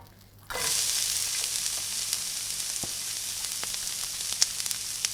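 A breakfast sandwich with cheese melting on top starts frying after a quiet half second: a sudden loud sizzle that holds steady and close, with a few faint pops and clicks, no speech.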